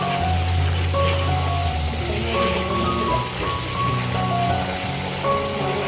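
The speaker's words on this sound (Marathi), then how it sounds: "आपले वेपर्स पण चांगले कुरकुरीत तळून झालेत. हे बघा, आवाज बघा येता." Banana slices deep-fry in hot oil seasoned with salt and turmeric, giving off a loud, steady, dense crackling sizzle that continues without a break.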